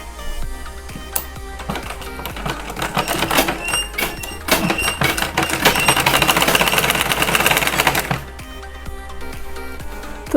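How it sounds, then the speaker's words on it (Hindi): A sewing machine stitches the side fitting seam of a kurti, running in a fast, steady mechanical whir that builds louder in the middle before easing back, close up with faint clicking around it. "अब इसमें भी हम फिटिंग की सिलाई लगाएंगे।"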